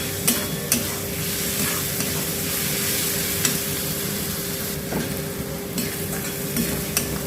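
Onions frying in a pan until browned, a steady close sizzle with occasional stirring scrapes and clinks, no talking.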